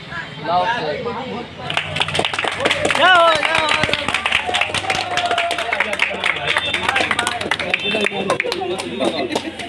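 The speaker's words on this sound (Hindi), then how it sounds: "वहाँ पे जाके लोग वहाँ से ताली बजा रहे हैं" Clapping from people at a birthday ribbon cutting, scattered hand claps building into steady applause amid crowd chatter and voices talking nearby.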